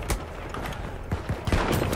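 Gunfire and a grenade blast in a Halo Reach or Battlefield 1 match, dense bursts of shots and booms crowding together, loud and continuous across the moment.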